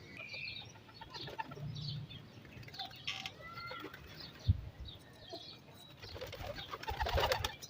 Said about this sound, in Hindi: ये देखें कैसा दोस्तों कबूतर माशाल्लाह पानी पी रहे हैं जी